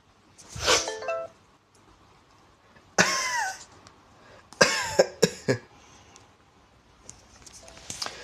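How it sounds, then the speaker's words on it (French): A person coughs in several bursts: one early cough, another a couple of seconds later, then a quick cluster of harsh coughs, with quiet gaps between. "J'étais en train de tousser"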